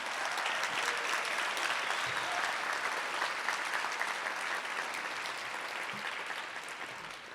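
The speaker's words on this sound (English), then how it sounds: "Please give them another round of applause." Sustained applause for musicians at a memorial lecture event, a dense, steady wash of clapping from a large audience that holds for the whole stretch and fades slightly toward the end.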